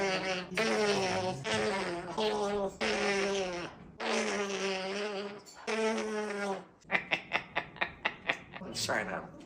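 A parrot imitates a fart sound with long buzzing, wavering raspberries, several in a row, then a quick series of short sputtering bursts, loud and close.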